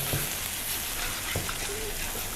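Finely chopped garlic and onion sizzle in a pan, a steady hiss of frying broken by a couple of soft stirring knocks.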